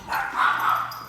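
Small dogs give a quick yipping bark, a few short high-pitched yaps packed into about a second, fairly close and clear with nothing else competing.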